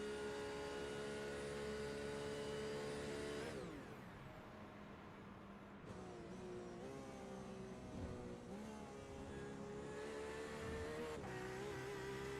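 Onboard engine of a race car in a sim racing game, an endurance round at Daytona, holding a high whine, then dropping revs while braking into the chicane before climbing through several gear changes; loud and close, no talking.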